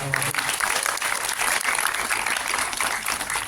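Applause from an audience at an Indonesian event honouring the cast of the film Lastri, a steady, moderately loud patter of many hands lasting the whole moment.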